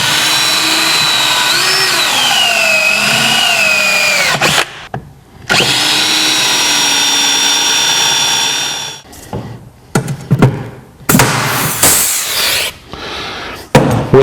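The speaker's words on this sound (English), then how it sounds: "go ahead and drill those holes out and install the rivets" Power drill boring out rivet holes in a Polaris snowmobile tunnel plate, a loud whining spin with pitch shifts for about four seconds, then a longer run, followed by shorter choppy bursts and scraping.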